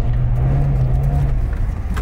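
A Suzuki Jimny III 1.3-litre 16-valve 4x4 idles and takes a light touch of throttle off-road, a low steady engine rumble close by, with a faint clatter near the end.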